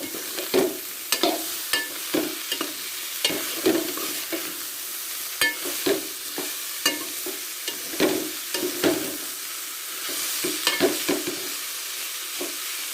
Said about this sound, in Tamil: வேக வச்சு வச்ச வாழைக்காய் சேர்த்துக்கலாம் கிண்டி விட்டுக்கலாம் நல்லா கலந்து விட்டுருங்க